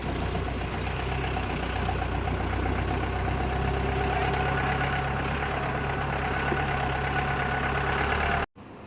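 A jeep engine runs steadily during a ride through the foggy mountains of Kerala, a continuous close rumbling drone that holds without break until it cuts off abruptly at the end.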